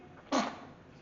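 One short, sharp baby sneeze, a single quick burst in a quiet room.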